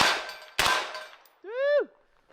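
Two sharp, muffled shots from a real SCAR rifle with a suppressor, about half a second apart, each with a short fading tail, followed by a brief rising-and-falling tonal sound.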